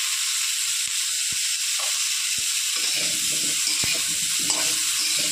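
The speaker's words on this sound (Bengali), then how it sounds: "ফুলকপি প্রায় ভাজা হয়ে এসছে, আর একটু ভেজে আমি তুলে নেব" Cauliflower florets fry in hot oil with a steady, close broadband sizzle, while occasional stirring scrapes and soft clicks come through over the continuous hiss.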